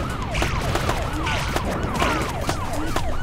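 A wailing police car siren in the video game They Came From The Skies 2 sweeps up and down repeatedly and loudly, layered with game explosions and crashing effects throughout.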